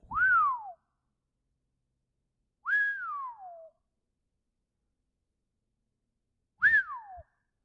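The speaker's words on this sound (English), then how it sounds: "Y'all like my new whistle?" Three separate whistle blasts, each a swooping tone that rises then slides down, spaced a few seconds apart with silence between.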